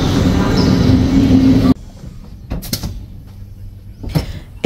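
Zürich to Paris passenger train: a steady loud rumble of the moving train fills the first stretch, then it cuts to quieter carriage sounds with brief clunks and knocks, like doors or fittings.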